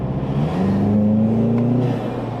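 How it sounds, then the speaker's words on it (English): A Volkswagen GTI Mk7 with an APR open carbon fiber intake accelerating, the engine note rising steadily in pitch with a droning, buzzy vibration, heard close and loud with no talk. "There's a weird vibration though when I'm accelerating."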